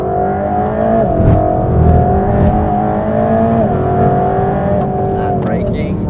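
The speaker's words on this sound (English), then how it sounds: "Gently accelerate back out now." A Mercedes-AMG GT3 race car accelerates out of a corner on track, its engine droning steadily loud with pitch rising and shifting through the revs, heard from inside the car with an instructor talking over it.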